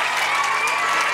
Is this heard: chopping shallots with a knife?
no